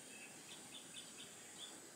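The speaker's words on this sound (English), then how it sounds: "We've got a little clock in here and it makes a little noise on the hour. Birds tweeting." A small indoor clock's hourly chime of recorded birdsong: several short, faint high chirps repeat at irregular intervals over a steady room hiss, with no one talking.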